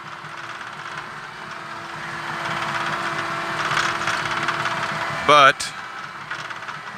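A John Deere 650K dozer engine, recently fitted with a new turbo, runs with a steady low rumble and hum heard from inside the cab, then a short loud electronic beep, while someone speaks briefly.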